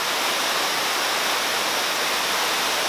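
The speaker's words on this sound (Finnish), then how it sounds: "Hieno putous, tommonen loiva luiste tulee tuolta. Ei ihan pysty suoraan, mutta vesi tippuu ja kohisee hienosti." Koivuköngäs waterfall in Korouoma, Finland, a gently sloping cascade of clear water, gives a steady, loud, broadband rushing roar that holds without a break and has no voices over it.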